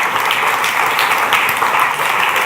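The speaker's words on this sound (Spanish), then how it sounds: "dele otro aplauso al Señor" A church congregation applauds continuously for a couple of seconds, a dense, steady wash of clapping from many hands filling the room, with a faint voice underneath.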